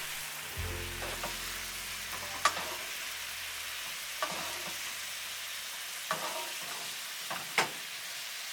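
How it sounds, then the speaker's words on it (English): Teriyaki-marinated salmon sizzles gently in a tilted pan while being basted with the sauce, a quiet, steady frying hiss broken by a few sharp spoon clicks and scrapes. "Tilt the pan and baste them for 3 minutes."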